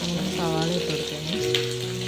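Sliced onions sautéing in a pan while being stirred for a Kerala okra dish, a close sizzle and gentle scraping under a humming background tone; no voices.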